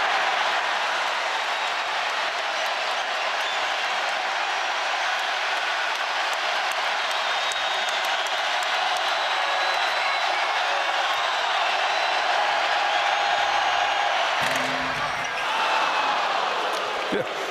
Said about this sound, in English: with one big round of applause that will hopefully give them that energy that they'll need in Kansas City